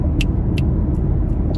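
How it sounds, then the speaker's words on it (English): Inside a moving car on a busy morning of errands, a steady low road and engine rumble fills the cabin, with faint rhythmic clicks ticking over it. "I am in the car"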